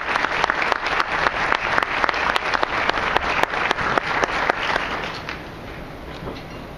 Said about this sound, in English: Let's have a big round of applause for all the work that these folks